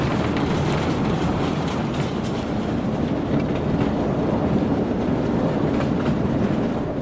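A narrow-gauge railway train rolls toward a timber unloading hangar, giving a steady, loud rumble with faint clickety-clack from the wheels, continuous and even throughout with no voices.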